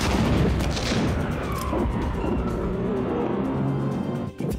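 Heavy booming spaceship cannon blasts from a Star Wars video game space battle, with a rumbling, whooshing roar, loud and dense.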